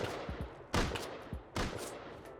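Gunfire in the survival game Rust: a few distant single shots, then two sharper, louder cracks spaced under a second apart, over a faint steady background.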